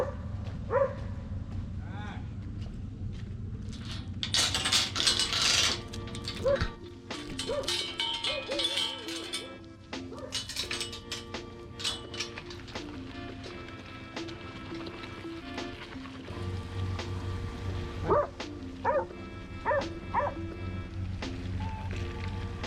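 Puppies bark in short, scattered yips over a low steady hum, with several barks bunched together early and more near the end. A person speaks softly at times.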